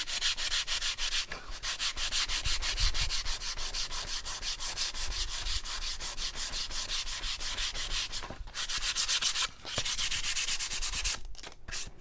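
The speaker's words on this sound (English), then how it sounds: "I'm sanding pretty heavily with a heavy hand" Steady, vigorous, heavy-handed sandpaper scraping on painted wood, a continuous rough rasping with fast back-and-forth strokes and a couple of brief pauses, close up.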